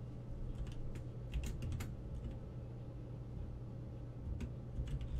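Soft clicking of fingers typing on a computer keyboard, irregular bursts of keystrokes heard faint and close over a low steady hum.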